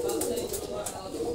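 Pigeons of a Khulna bloodline coo steadily in a close, continuous low murmur, with faint higher chirps and flutters scattered over it.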